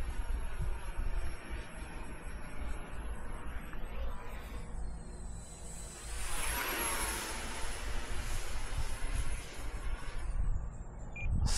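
A steady F-15 jet engine roar in a flight video game runs throughout, with a rising whine midway as thrust builds, loud and continuous with no talking.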